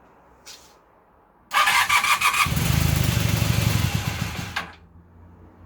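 A stone-cold motorcycle engine fires up on choke after a quiet pause, catching sharply and revving in a burst of uneven pulses. It then settles into a rough, loud run for about three seconds before cutting off.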